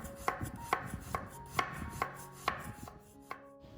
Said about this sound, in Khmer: ស្ករត្នោតរបស់ខ្ញុំជាប្រភេទដុំរឹងបែបនេះគឺខ្ញុំត្រូវហាន់វាឲ្យស្ដើងសិន